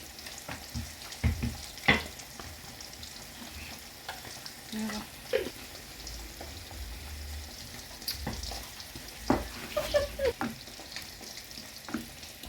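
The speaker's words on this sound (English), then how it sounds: "Then you let it simmer for a while on low heats." A honey and barbecue sauce simmers on low heat in a pan, a soft bubbling sizzle under scattered utensil clinks and scrapes, fairly quiet throughout without speech.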